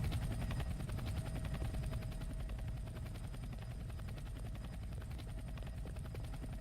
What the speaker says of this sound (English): Come on, get me in this helicopter.